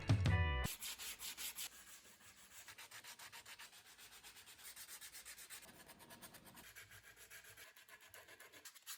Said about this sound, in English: I had days of hand sanding staring me dead in the eyes